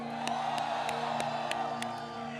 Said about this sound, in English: let's give them, first of all, a big round of applause